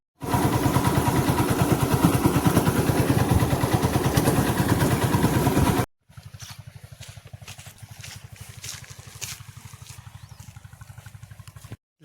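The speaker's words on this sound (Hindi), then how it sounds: "बाइक को लेकर चलेंगे खेत पर।" A motorcycle engine runs steadily close by with a loud, even throb, then drops abruptly to a quieter, softer idle-like running for the remaining seconds.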